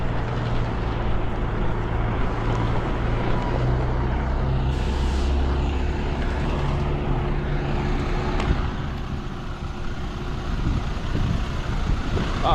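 A JB Hunt intermodal truck idles with a steady low rumble and drone that holds throughout, close and continuous, with no talking over it.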